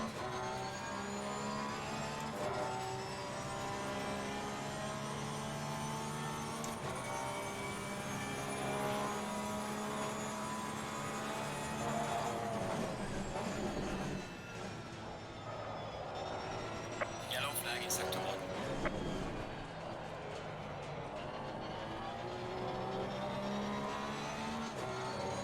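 A race car in the sim racing game Assetto Corsa Competizione drives hard, its engine whining steadily through rising and falling gear changes with occasional tire squeal, while a driver's voice comments at times.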